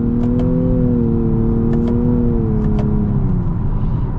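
A 2023 Nissan Maxima SR with an Xtronic CVT accelerates hard, its engine drone rising smoothly and steadily with little step change, loud and close inside the cabin, with a few faint clicks over the top.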